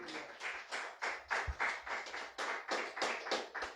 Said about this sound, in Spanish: Le fuerte aplauso al Señor.